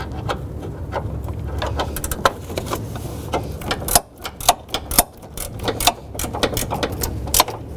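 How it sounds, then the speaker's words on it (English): Impact gun tightening two forward 14mm transmission mount bolts on a 2007-2011 Honda Civic, heard as sharp rattling bursts close by, several short hammering runs with pauses between them and no talking. "I'm going to go ahead and use our impact gun to tighten up these 2 forward mounted 14 bolts"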